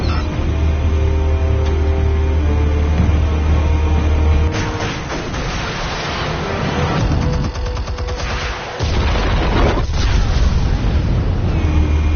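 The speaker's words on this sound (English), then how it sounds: "Explosives armed. Fire when ready." Explosives detonate during a Batman action scene: heavy booms and crackling blasts run loud and nearly continuous, with rattling bursts in between.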